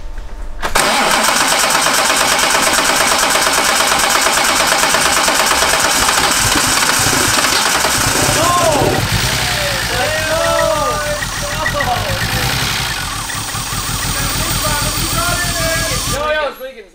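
A BMW M3 engine cranks and fires, then runs loudly and roughly in a steady idle for most of the stretch, with people talking and calling out over the engine noise.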